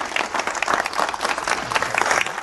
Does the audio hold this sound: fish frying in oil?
no